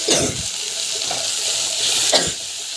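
Vegetables with coriander sautéing in a pan, a steady close sizzle with a few louder stirring scrapes near the start and toward the end, no voices.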